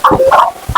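Close, loud clucking from a rooster of about 5 to 6 kilograms, a few short throaty calls in quick succession.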